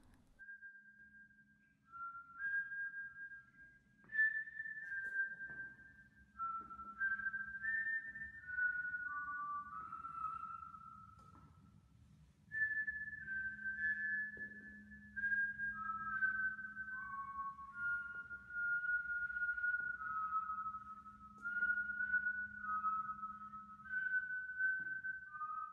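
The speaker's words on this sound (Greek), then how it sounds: "Ακριβώς στις 3 και 3 ακούσαμε το σφύριγμα." Mysterious whistling outside a house at night: a thin, clear tune of sliding, wavering notes, heard in repeated phrases over a faint low background hum.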